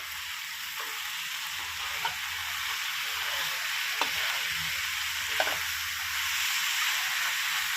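Red chilies and sliced kaffir lime leaves stir-fried in hot oil for a catfish curry, giving a steady close sizzle with a few faint scraping stirs.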